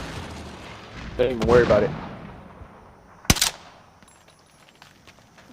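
Video game gunfire, sniper shots and bursts, crackles through a loud blast and then a sharp single crack, with excited voices talking over and between the shots.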